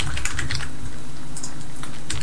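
Rapid clattering keystrokes on a computer keyboard, a quick uneven run of taps with brief pauses, close and clear with no voices.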